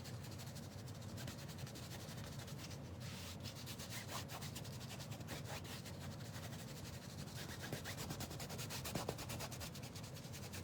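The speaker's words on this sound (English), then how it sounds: "You can hear me scrub that canvas though." Steady broadband scraping and rubbing from a palette knife scrubbing paint across a canvas, continuous and close, running alone without talk for the whole stretch.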